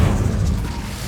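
An Incendio fire spell in Hogwarts Legacy lets out a short, heavy whooshing burst of flame, loud and low, dying away quickly within about a second.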